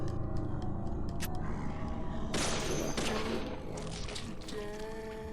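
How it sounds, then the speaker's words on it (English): Gunfire rings out while shooting monsters in the video game Deadly Premonition, with a run of sharp shots that gives way to a dense burst of blasts over steady game background noise. "I'm shooting monsters"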